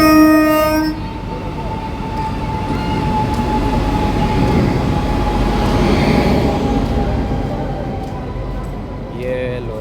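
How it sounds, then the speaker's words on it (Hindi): The Ahmedabad–Borivali Express rolls into Surat railway station, its horn blaring at the start before giving way to a steady rumble and clatter of wagons, with a voice talking over the noise. "ये लो भाई अपनी ट्रेन अराइवल हो चुकी है सूरत रेलवे स्टेशन पे"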